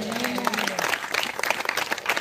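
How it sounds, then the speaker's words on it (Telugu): A church congregation claps briefly, a quick burst of scattered hand claps heard close, with a voice trailing off at the start. "చప్పట్ల కొట్టండి."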